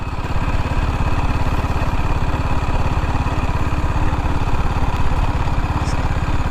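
A TVS Apache RTR 310 motorcycle engine at closed throttle, holding a loud, steady, close-up rhythmic thrum without a break.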